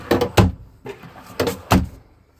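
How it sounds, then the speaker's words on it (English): Full-length drawers in a 2017 Northern Lite 10'2 EX CD SE four-season truck camper slide open and shut, giving several close, quick rumbling slides and thumps. "these are full-length drawers, they open right up"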